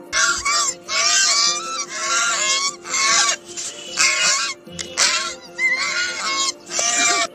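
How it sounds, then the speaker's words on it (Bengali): A young goose honking in a series of about eight loud, close, nasal calls with short pauses between them, sounding alone without talk. "রাজহাঁসের বাচ্চা। Gosling."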